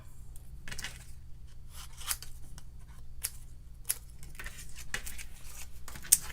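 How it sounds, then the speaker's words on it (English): Scissors fussy cutting around a stamped paper piece for a shaker card, a run of soft, close snips and crisp clicks in uneven rhythm, fairly quiet against a faint background hum. "Okay, and then I'm going to fussy cut this."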